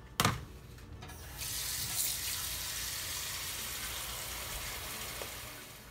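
Tap water runs steadily into a pot of cleaned chicken pieces being set up to precook for a Mexican chicken stew, a continuous close splashing gush after a brief clatter at the start.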